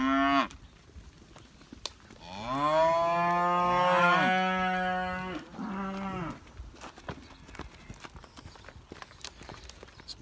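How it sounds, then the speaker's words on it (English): Heifers moo in a farm setting: two long, loud, tonal lowing calls, the second shorter. Faint clip-clop and scuffing steps come between them. "Good looking heifers here."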